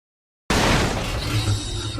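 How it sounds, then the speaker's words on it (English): A car crashing into a building with pedestrians nearby: a sudden loud broadband impact and shattering glass, then sustained crunching debris and clatter at close range, no speech. "a crashing car missed pedestrians before slamming into a building"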